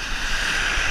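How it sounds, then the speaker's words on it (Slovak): Sea surf off Palma de Mallorca washes in a steady broadband roar, close and loud, mixed with wind buffeting. "studená voda, dobré vlny sú"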